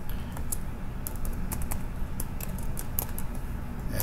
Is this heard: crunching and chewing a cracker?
no